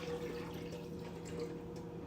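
Water poured from a tap into a pot while making mac and cheese, a steady, fairly quiet running and filling sound that lasts the whole moment.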